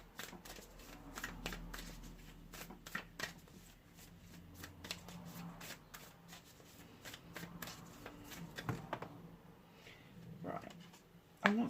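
Rose Oracle cards being shuffled by hand, a continuous quiet riffling and flicking with repeated soft card slaps, close and steady throughout.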